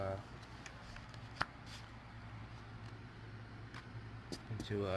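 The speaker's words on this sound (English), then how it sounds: "Alright, now I put all the yellow cards back" Yellow playing cards shuffled and handled, then slipped back into a stack, a soft steady riffle with one sharp tap, under ongoing talk and a low background hum.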